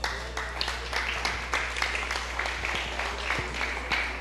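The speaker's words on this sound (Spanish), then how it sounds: "prende un aplauso al Señor" A church congregation claps together during a Spanish-language sermon, a fairly faint, loose rhythm of hand claps over a steady low hum.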